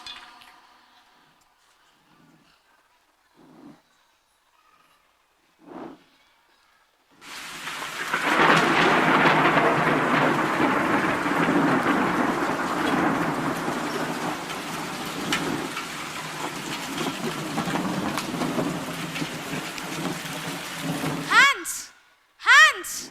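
A thunderstorm sound effect played in a school English skit: brief quiet taps, then a long loud roar of rain and rolling thunder that swells and fades, ending with a few sharp sounds.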